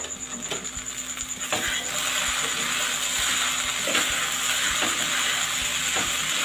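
Sago pearls (sabudana) are stirred in a pan over a low gas flame, giving a steady soft sizzle with periodic scraping knocks of the spoon against the pan, close up and with no voice.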